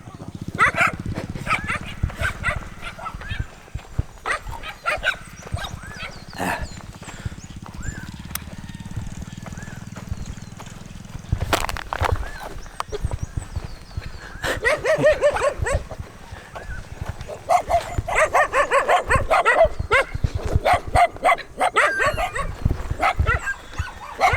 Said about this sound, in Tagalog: Medyo maraming aso.